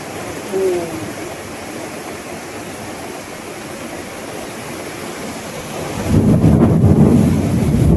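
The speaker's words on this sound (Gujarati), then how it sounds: "જોરદાર વરસાદ આવે છે." Heavy downpour in Surat with wind, a dense steady hiss of rain throughout, then a deep rolling thunder rumble swells up loudly near the end and lingers.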